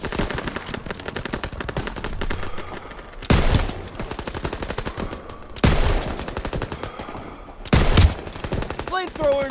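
Rapid bursts of machine gun fire in a World War II Call of Duty battle over a bridge, loud and sustained, with several heavier explosive blasts punching through the chatter.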